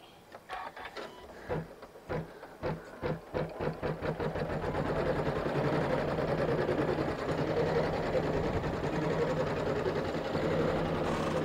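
An embroidery machine stitches, first with spaced rhythmic needle taps that quicken into a continuous fast mechanical chatter and whir, close and steady.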